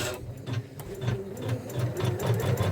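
Embroidery machine stitching out the placement lines for a log cabin tulip quilt block, a steady close whirring hum with a rapid, slightly uneven pulsing rhythm throughout.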